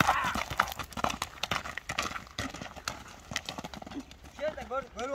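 A horse clip-clopping with irregular hooves heard close by, mixed with people talking, followed near the end by a brief whinny-like call.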